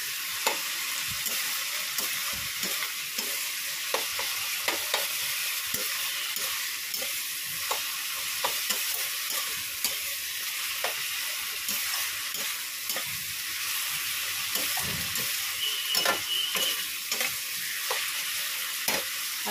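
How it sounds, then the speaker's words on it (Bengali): Onion and garlic frying in a pan during a mutton curry cook, a steady close sizzle broken by frequent sharp clicks and scrapes of stirring, with no talking. "দেখো ওখানে পেঁয়াজটা ভাজা হতে আমি রসুনটাও দিয়ে দিয়েছি।"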